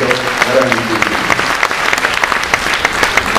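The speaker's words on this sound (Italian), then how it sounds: "E lì è scattato un applauso infinito, veramente infinito." Sustained audience applause at an Italian talk, a dense wash of many hands clapping steadily throughout, fairly loud, with a voice briefly audible underneath near the start.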